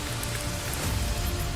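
A steady roar of rushing water from a waterfall at Mainpat, Chhattisgarh, heard from some distance, continuous broadband noise with no voices.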